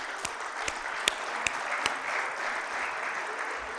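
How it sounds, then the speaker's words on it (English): At a Baghdad energy forum's opening session, a hall audience gives sustained, moderately loud applause, with a few sharper individual claps standing out early before the sound settles into an even wash. "We deserve an applause for this"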